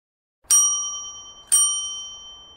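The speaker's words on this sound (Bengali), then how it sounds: "সকাল সকাল কলিং বেল বেজে উঠল" A doorbell chimes twice, about a second apart, each a bright clear ring that decays slowly in an otherwise quiet room.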